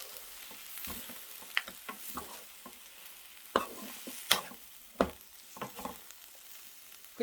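Aged kimchi stir-fries in a pan over low heat, with a soft background sizzle broken by repeated sharp scrapes and clacks of a utensil stirring against the pan at an uneven rhythm.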